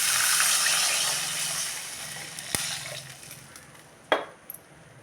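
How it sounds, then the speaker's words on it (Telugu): Water is poured into a cooking pan over onions, green chillies and tomatoes for a semiya tiffin: a rushing pour that gradually fades over several seconds, followed by a few sharp metallic clinks. "ఇప్పుడైతే వాటర్ అయితే పోసేసుకుంటున్నాను"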